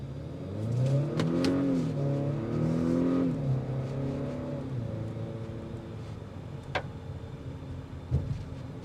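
An Acura RDX turbo four-cylinder engine accelerates during a test drive, heard from inside the cabin as a rising and falling engine note through several gear changes, then easing to a quieter road hum with a few clicks.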